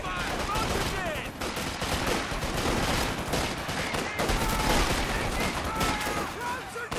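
Sustained machine gun and rifle fire in a Company of Heroes 2 Ardennes Assault battle, dense overlapping bursts and battlefield noise running throughout with soldiers' voices calling out over it.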